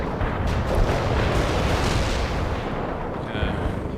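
Artillery bombardment in the strategy game World in Conflict: a continuous heavy rumble of distant shell impacts, steady and loud throughout with no clear pauses.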